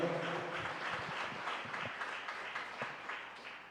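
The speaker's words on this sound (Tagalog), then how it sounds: "pumalakpak ng malakas sa ating mahal na Panginoon" A church congregation clapping for God during a preaching service: a faint, distant patter of many hands with a few sharper individual claps.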